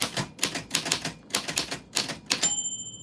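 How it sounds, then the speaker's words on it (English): Old 1949-style manual typewriter clattering through a steady run of close, crisp keystrokes, then a single bright bell ding that rings out clearly at the end. "if your name falls on the typewriter bell, it isn't just good vibes"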